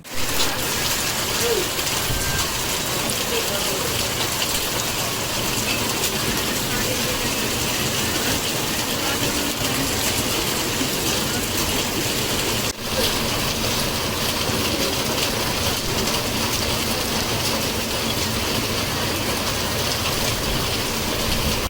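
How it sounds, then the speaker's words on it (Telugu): Dense, constant cyclone-driven heavy rain in Sachivedu constituency, Andhra Pradesh, roars without letup for over twenty seconds, a thick wash of hiss with a faint mechanical rattle underneath. "సచ్చివేడు నియోజకవర్గంలో భారీ వర్షాలు కురుస్తున్న పరిస్థితి"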